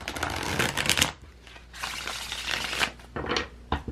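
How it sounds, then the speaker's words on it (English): Crisp riffling tarot card shuffles in a few close bursts, a sharp flutter of cards followed by quieter pauses, with no talking. "One more shuffle."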